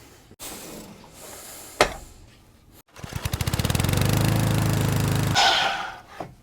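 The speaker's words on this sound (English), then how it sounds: "Or you can just take it to your miter box and cut your 45 from that right edge." A miter saw cuts a 45-degree angle through a wooden piece: a click and short handling noises, then the motor spins up into a loud buzzing whine that runs a few seconds and winds down.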